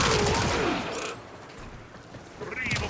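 A secondary weapon in Warframe fires in a rapid burst of full-auto shots at the start, falls quiet, then opens up with another burst at the end.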